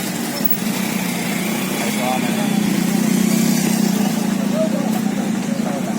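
A motorcycle engine runs steadily nearby with a constant buzzing drone, its pitch rising slightly midway, while voices talk faintly underneath.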